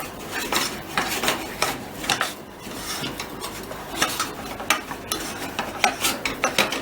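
Spatula scraping and knocking choux pastry dough, speculoos-flavoured, off the sides of a pan, with repeated metallic clinks and scrapes in an irregular stirring rhythm, close and moderately loud, no talk.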